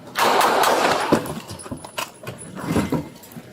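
Gunshots ring out during a police encounter: a loud, sharp volley at the start, followed by scattered bangs and clatter that fade into quieter commotion.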